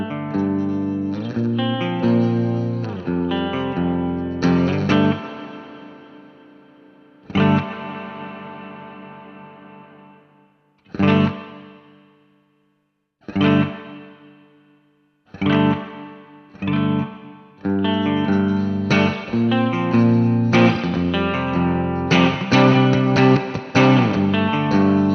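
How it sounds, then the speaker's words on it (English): Electric guitar run through the spring reverb mode of a NuX Atlantic effects pedal: full strummed chords, then isolated stabs separated by gaps where a splashy reverb tail decays, before dense playing resumes, loud and close with no voices. "I'm going to start on the spring reverb."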